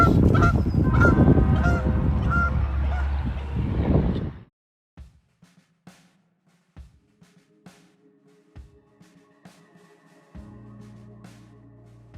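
Loud, close goose honking fills the first few seconds, then gives way to sparse faint thumps and quiet background noise.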